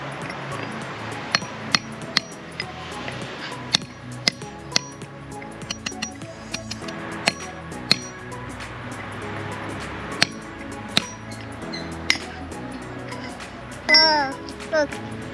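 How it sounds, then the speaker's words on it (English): A hammer striking a chisel against a geode wrapped in cloth, sharp metallic clinks sounding singly at irregular intervals, close and bright over a low background hum, with a voice briefly heard near the end. "Let's try geode with a chisel."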